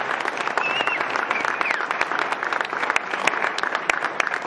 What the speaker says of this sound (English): Let's give them a round of applause. A boys round of applause.